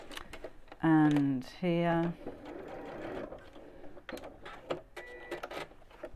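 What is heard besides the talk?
sewing machine sewing tacking stitches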